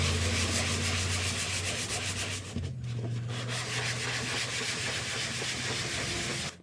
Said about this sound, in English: Now this is an 80 grit sanding sponge, and it's still pretty tough.